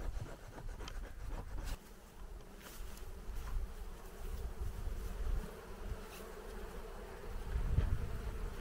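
Caucasian honey bees swarming around a hive at the end of the honey season, a dense steady buzzing close by with occasional scraping and knocking.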